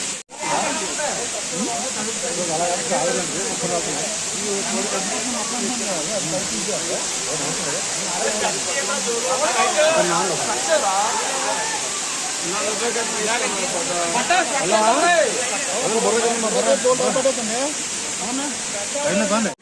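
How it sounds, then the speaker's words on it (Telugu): Katiki waterfall in Araku roars as a steady broadband rush of falling water, loud and continuous throughout, with people talking over it. "వచ్చామన్నమాట అరకు కటికి వాటర్ ఫాల్స్ కి."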